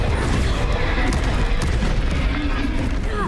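A Bombarda spell blows up during a Hogwarts Legacy fight against trolls, giving a dense, continuous booming roar of explosive game noise with a voice talking over it.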